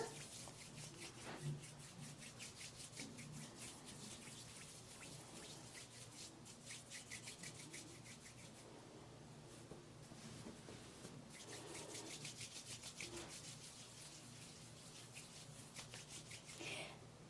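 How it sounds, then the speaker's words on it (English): Oiled hands rub together in soft, repeated dry-slick strokes, faint and close, with brief pauses between bursts of rubbing and no talking. "put a drop of each, or not even a full drop of each, on your hands and rub them together"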